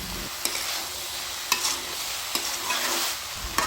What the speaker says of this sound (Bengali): সমস্ত সবজি কষাতে কষাতে যখন আলুটা গলে আসবে